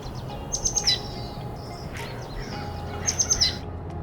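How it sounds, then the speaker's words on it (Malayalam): Birds chirp and sing in two bright bursts of high trills, with quieter calls in between over a steady outdoor background. "കിളികളുടെ ശബ്ദം ഭയങ്കരമാണ് ചുറ്റും"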